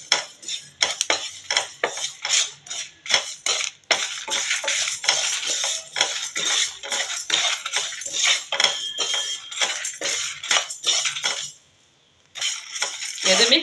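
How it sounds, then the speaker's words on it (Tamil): Sesame seeds dry-roasting in a pan with peppercorns and cumin while tamarind rice spice mix is prepared, giving a dense, continuous crackle of tiny pops and clinks with a brief lull near the end. "எள் நல்லா பொரியிற சவுண்டு வரணும்."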